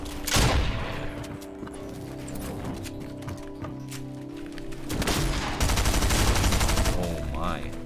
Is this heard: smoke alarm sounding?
no